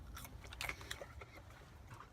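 Crunchy crinkle-cut fries, hot from the fryer and salted, from a Del Taco order, chewed close up: irregular crisp crunches and bites spread over a couple of seconds, fairly quiet, with no talking.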